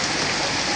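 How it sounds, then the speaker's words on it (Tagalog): Heavy rain pours down in a dense, constant hiss with no pauses. "at sobrang lakas po ng ulan"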